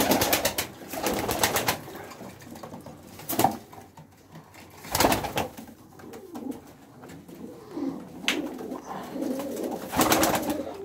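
Pigeons coo in a coop, soft repeated calls rising and falling at close range, with scattered rustles and flutters between them and no talk.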